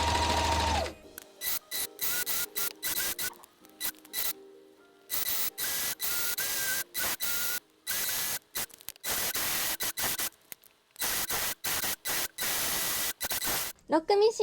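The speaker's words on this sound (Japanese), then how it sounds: "ロックミシンかけていきたいと思います。" An overlock serger stitches through thick crocheted snood fabric of Opal wool yarn in short whirring bursts that start and stop again and again, loud and close, with brief silent gaps between runs.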